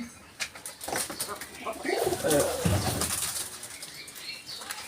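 Pigeons flap their wings in a brief flurry nearby, with low cooing mixed in, moderately loud.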